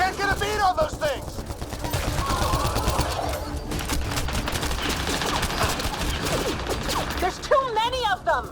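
Sustained automatic gunfire and bursts of shots from a sci-fi shooter battle in Mass Effect Andromeda, loud and dense throughout, with frantic voices shouting over the combat.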